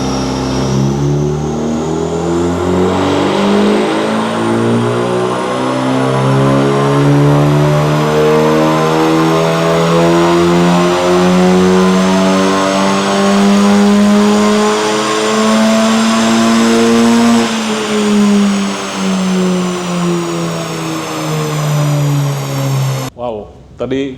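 A Honda Civic Type R with a full exhaust and stage 1 PRL intake revs hard on a dyno, its loud engine note climbing steadily through the gears in long sweeping pulls before dropping off at the end.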